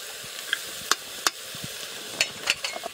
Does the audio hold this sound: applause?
no